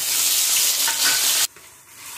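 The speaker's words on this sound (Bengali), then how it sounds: "তেল গরম হয়ে গেছে, আদা রসুন পেঁয়াজ একসঙ্গে বাটা দিয়ে দেবো।" Ginger, garlic and onion paste sizzling in hot oil for chicken chow mein, a loud, dense hiss that drops abruptly to a quieter bubbling simmer partway through.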